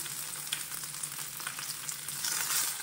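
Finely chopped ginger and curry leaves fry in hot oil in a pan for uppumavu, a lively close crackling sizzle that swells slightly toward the end, with faint stirring and no voices.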